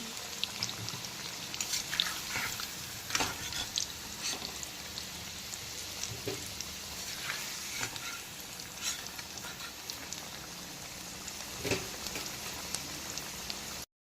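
Potatoes fry in hot oil with a steady, fine crackling sizzle, punctuated by scattered louder pops and scraping as they are lifted out with a slotted spoon, close up and without talk.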